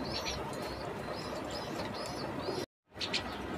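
Soft pigeon coos and faint chirps from pairs of pet pigeons offered for sale at a home in Sreepur, Gazipur, over a steady low background hum, briefly cut to silence near the end.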